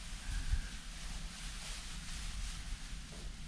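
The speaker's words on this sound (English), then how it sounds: "the wind is really kicking around" Strong, gusty outdoor wind roars as broad rushing noise with heavy low rumble buffeting the microphone, rising and falling unevenly.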